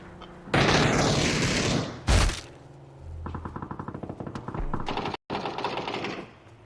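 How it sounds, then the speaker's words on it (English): Video game gunfire comes as rapid automatic bursts of close, loud shots, with a heavy blast and a dense rattling stretch between them and a brief cut to silence near the end. "Who's he shooting at?"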